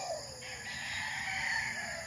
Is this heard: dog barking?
no